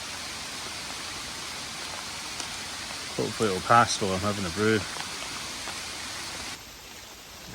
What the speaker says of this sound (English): It's begun to absolutely piss with rain.